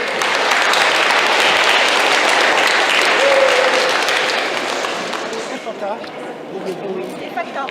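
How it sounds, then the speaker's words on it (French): A church congregation in France applauds together, a loud, dense wash of clapping that holds steady and then thins and fades toward the end, with voices mixed in beneath. "Applaudissons pour Jésus"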